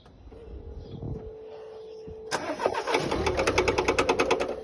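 Car engine cranking after a botched timing belt job: a steady starter whir, then a sudden harsh start into a rough, fast, rhythmic knocking clatter, loud and close.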